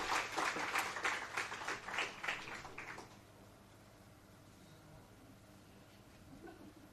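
Applause ripples through a toxicology conference audience at Nirma University in Ahmedabad, a few seconds of brisk clapping that stops abruptly, leaving quiet room tone.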